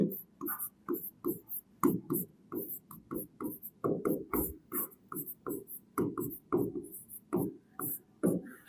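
During a Class 10 maths lecture on probability, writing on a board comes through as quick, rhythmic strokes and taps in close succession, near and clear, with a voice speaking at times.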